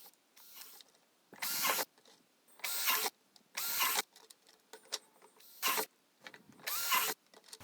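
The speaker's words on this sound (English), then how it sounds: "I'm just going to use this 5/8 inch drill and we'll just poke holes in all of these" A 5/8 inch drill bores holes into the corners of a plastic bucket, heard as loud grinding bursts of about a second each, repeated five times with short quiet pauses between, close up and without talk.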